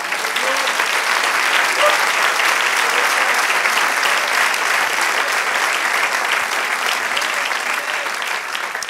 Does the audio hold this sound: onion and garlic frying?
no